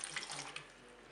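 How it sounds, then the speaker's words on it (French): Broth is poured into a Cookeo multicooker holding cauliflower florets and peeled tomatoes, a brief, soft, splashy liquid pour heard up close with no voice over it. "Je vais verser mon bouillon."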